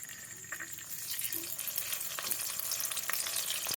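A milk mixture cooking in ghee in a wok, giving a dense continuous frying hiss with stirring scrapes, close and steady throughout.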